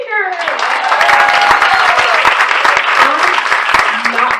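Loud, sustained applause from a conference audience fills the room, dense clapping that holds steady for several seconds before beginning to thin out.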